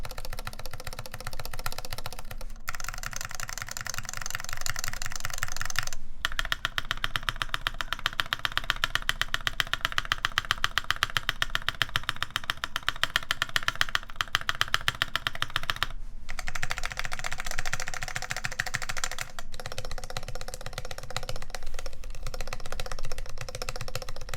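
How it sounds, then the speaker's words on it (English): Close, continuous typing on an unlubed custom QXP keyboard build, its key switches clacking in quick dense runs with short gaps between bursts, loud and uninterrupted by talk. "what you hear is pretty much the switch"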